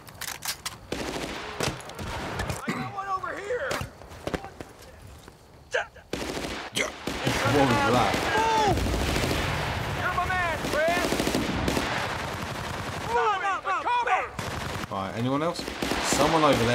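Machine gun bursts and rocket fire in the video game Battlefield: Bad Company, loud repeated gunfire and explosions with rattling bursts, while voices talk over the combat.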